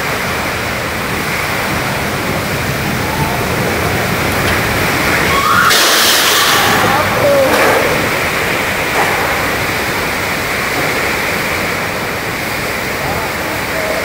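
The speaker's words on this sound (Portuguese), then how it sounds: "O vento tá muito forte" Strong wind roars across an open outdoor area in a constant broadband rush, swelling into a louder gust midway before easing back to a steady blast.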